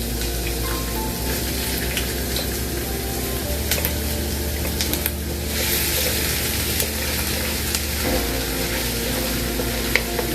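Ginger sizzling in a frying pan while being stirred, a steady close crackle with occasional scraping stir sounds and no talk.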